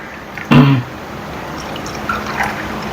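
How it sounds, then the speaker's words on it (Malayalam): Warm liquid jelly poured into a small cup, heard as one brief, close splash and trickle lasting well under a second, followed by a quiet room. "ഈ ഒരു ചെറിയ കപ്പ ഇവിടെ ഉണ്ടായിരുന്നുള്ളൂ അതുകൊണ്ട് ഞങ്ങൾ ഇതിലോട്ട് ഒഴിക്കുകയാണ്"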